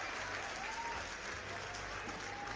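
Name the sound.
applause sound effect played on a stream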